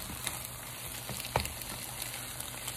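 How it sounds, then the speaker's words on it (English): Eggs frying in a pan for breakfast fried rice, a faint, steady sizzle and crackle with occasional small pops and one brief clink near the middle, heard alone without talk. "I kind of want to cook them until they are getting close to dry"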